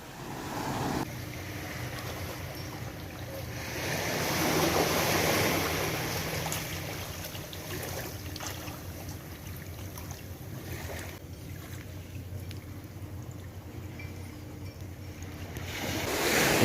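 Gentle waves wash onto a small beach early in the morning, a soft continuous surf with a light wind rushing over it and no voices.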